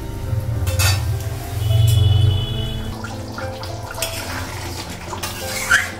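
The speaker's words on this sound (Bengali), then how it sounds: "তো ঝোলের জন্য জল লাগিয়ে দিলাম" Water pours into a pot of simmering Bengali goat-meat curry to make the gravy, a burst of rushing splash with a low, rumbling gush and some clinking, fairly loud, then settling into quieter bubbling. No one speaks.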